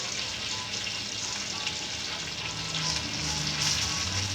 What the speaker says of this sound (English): So half a stick of butter. Throw that in the saucepan.